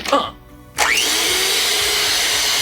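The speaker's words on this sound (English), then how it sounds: "You're gonna set the mixer to puree for 14 minutes." Mixer set to puree, a brief clatter then a loud steady whirring motor whine that starts abruptly and runs continuously at close range.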